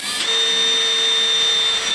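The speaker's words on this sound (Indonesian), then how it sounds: "ini bisa saya menggunakan mata bor 4 mm ya kita bor lebih kurang di tengah" A power drill with a 4 mm bit bores a hole in a workpiece during scroll saw work, a loud steady whine held for about two seconds and close by.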